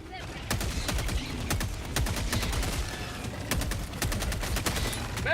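Rapid automatic gunfire in Helldivers 2 rattles almost nonstop for several seconds, loud and close, as a weapon's magazine is emptied in dense bursts.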